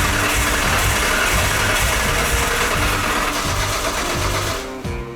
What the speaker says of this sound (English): We've tried starting the Skyline, and it's shown a little bit of enthusiasm, but it's not actually got up and running just yet.